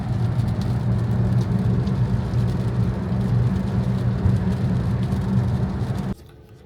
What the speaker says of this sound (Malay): So guys, hujan hari ni.